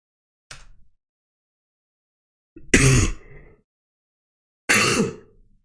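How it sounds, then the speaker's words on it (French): Three separate coughs spaced a couple of seconds apart, the first short and light, the last two harsher and throaty, close up in silence. "Pardon pour la toux."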